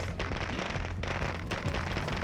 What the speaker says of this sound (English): I accidentally throw a firecracker while I'm trying to escape from danger